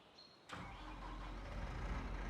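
In the video game Farming Simulator 25, a tractor engine starts abruptly, then settles into a steady, faint, low idling drone.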